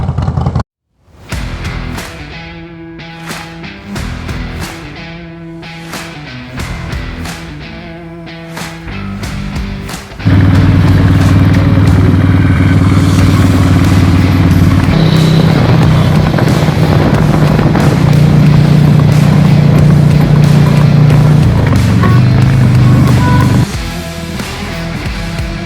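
A Harley-Davidson Street Glide motorcycle in a custom Frankenstein build, revving in short blips and then riding with a loud, steady engine drone and wind rush that lasts most of the stretch.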